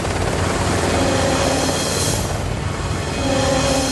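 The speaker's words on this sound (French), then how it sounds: "l'hélicoptère décolle." A helicopter lifts off near a moving rally car at night during the Paris-Dakar, its loud rotor and engine roar steady and broadband throughout, close and continuous with no talk.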